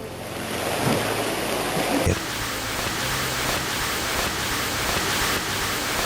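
Heavy typhoon rain from Typhoon Faxai pours down in Miyagi, Japan, at about 100 mm an hour, a dense, steady roar of water that fills the whole clip with a brief louder surge near the start and no talking.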